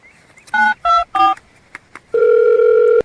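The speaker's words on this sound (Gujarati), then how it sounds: "બધા લોન વાળાને ફોન કર." A telephone keypad dials with three distinct touch-tone beeps and a couple of faint clicks, then a steady dial tone holds to the end. The tones are loud and close, with no talking.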